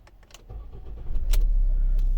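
A 2014 Ford Tourneo Connect II 1.6 petrol automatic engine cranks and catches, the low rumble rising and then settling into a steady close idle.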